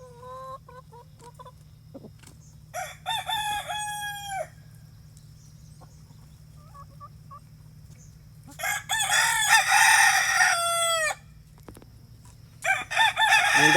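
Backyard chickens in a spring garden, with a rooster crowing loudly twice in long, drawn-out calls, and soft clucks in between over a low, steady background hum.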